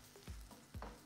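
Eggs and vegetables frying in a pan for a Spanish omelette, a soft, close sizzle with two brief stirring or scraping pushes, heard quietly with no talk.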